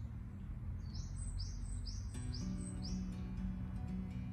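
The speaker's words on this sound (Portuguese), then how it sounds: "O som dos pássaros." Small birds chirp and trill in a rose garden, a run of short bright calls repeating steadily over a low hum of nearby traffic.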